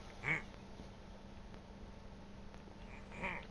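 A duck quacking in a video game: two short, faint quacks, one near the start and one near the end, over a low steady background hum.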